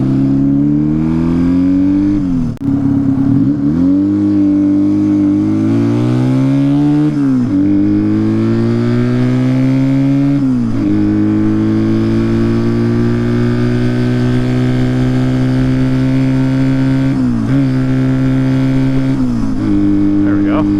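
A Honda Dream motorcycle engine runs steadily while being ridden, loud and close, its pitch climbing through repeated gear changes with brief dips between shifts.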